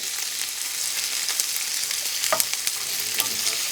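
Onions frying in olive oil and butter for caramelizing, a continuous close sizzle with a few sharp scrapes and clicks from stirring, no voices.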